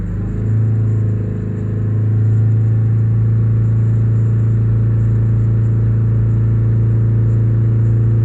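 A Mazda 2.2 Skyactiv diesel engine held steady at 3500 RPM, a loud continuous droning hum with a firm low rumble and no change in pitch, close by with no voices.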